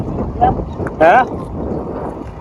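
Strong wind buffets the microphone on a farm, a low continuous rumble with gusty swells, while someone speaks briefly over it.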